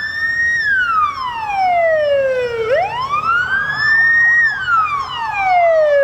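Wailing emergency sirens of fire engines and ambulances arriving at a technical college building during a drill in Tuva, Russia, loud and close, one siren sweeping smoothly up and down in long slow cycles.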